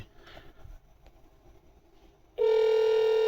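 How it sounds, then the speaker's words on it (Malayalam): An internal extension is dialed on a Grandstream PBX phone system: faint button taps, then a loud, steady ringback or dial tone starts abruptly and holds, close and clear. "101 എന്ന് ഡയൽ ചെയ്യുന്നുണ്ട്."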